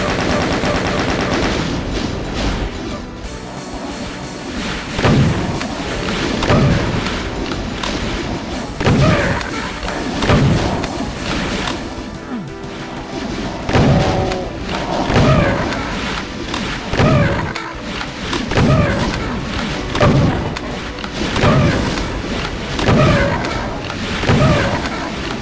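Double-barrel shotgun blasts from the ZDoom game Fall of Society, a steady run of loud, punchy booming shots every second or two over a continuous dense game soundscape, with no speech.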